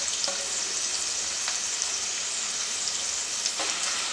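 Sliced onions and curry leaves fry in hot oil in a pan while cooking mutton fry, giving a steady, close, dense sizzle with a few faint clicks of stirring and no talking.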